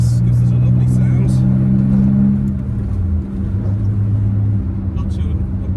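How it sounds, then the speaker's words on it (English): A 1982 Porsche 911SC engine with an aftermarket exhaust drones loud and close, a steady low note whose pitch drops midway as the gear changes, then settles into an even cruise. "There's some sort of aftermarket exhaust on this, gives it a lovely sound."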